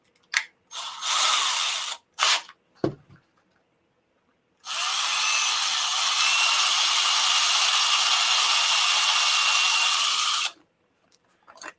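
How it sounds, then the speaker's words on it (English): An electric drill whirs steadily for several seconds into wood after a few short trigger bursts, close by, with no talking. "Need to drill into the top part of that to hold the screw."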